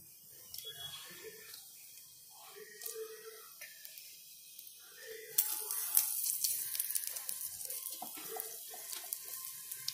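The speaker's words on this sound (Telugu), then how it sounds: "ఇప్పుడు దీన్ని మళ్ళీ కడాయి పెట్టుకొని ఆయిల్ వేసి ఫ్రై చేసుకుందాం." Potato and green chillies fry in oil in a kadai, giving a steady crackling sizzle with light clinks and some background noise. The sizzle swells louder and brighter partway through.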